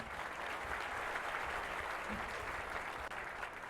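Steady, dense applause with many hands clapping continuously and evenly at moderate loudness, with no break for the whole stretch and no voices over it.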